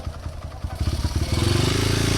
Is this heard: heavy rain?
no